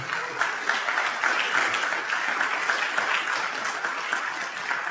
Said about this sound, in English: Let's hear a round of applause, everybody.